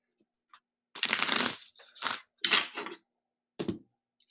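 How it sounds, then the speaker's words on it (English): Tarot cards being shuffled by hand: several separate riffling, crackling bursts with short pauses between them, close and fairly loud with no talking. "So I'm shuffling the tarot deck 3 times"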